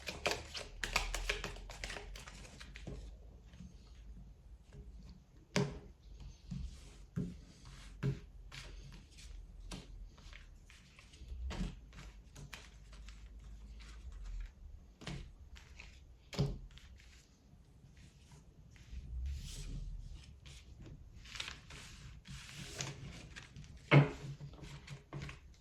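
Tarot cards shuffled and drawn for a reading: soft, irregular taps and flicks of cards handled close by in a quiet room, scattered sharper snaps among faint rustling.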